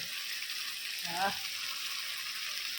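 Prawns fry in mustard oil in a pan, giving a steady, even sizzle, with a brief stir-like splutter in the middle.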